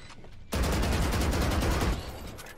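Rapid automatic gunfire in Valorant spraying into a wall, a sudden dense burst of rattling shots lasting about a second and a half, loud and close, then cutting back to quieter ambience.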